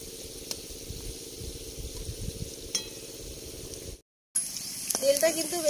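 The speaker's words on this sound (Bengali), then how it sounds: "কড়াইয়ের মধ্যে সাদা তেল দিয়ে দিচ্ছি। এবার একটা একটা করে মোমো দিয়ে দেবো।" Chicken momos frying in white oil in a wok give a steady soft sizzle with a faint hum, broken by a brief silent gap before the crackle returns a little louder.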